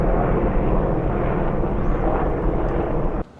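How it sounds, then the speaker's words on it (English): Apparently two military helicopters passing overhead on a training flight, a loud, dense, broadband rumble that holds steady for about three seconds and then cuts off sharply. "there is a huge helicopter coming over the top"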